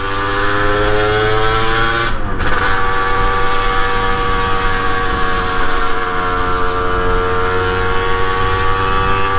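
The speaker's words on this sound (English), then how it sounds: "It seems to be getting louder with age, this bike." A 2023 Rieju MRT50 Trophy SM Pro, a 2-stroke 50cc motorcycle, runs close by with a loud, steady, buzzy engine note and layered harmonics that rise and fall slightly, briefly dipping once early on.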